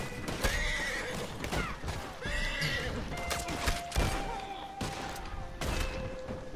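Horse in Red Dead Redemption 2 neighs and whinnies repeatedly over clip-clopping hooves amid gunfire, the calls loud and close with brief gaps between them.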